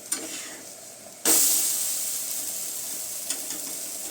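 Dosa batter sizzles and hisses steadily on a hot stone griddle greased with ghee as the pancake is flipped, with a sudden burst of frying noise partway through and a few faint scrapes, no voices.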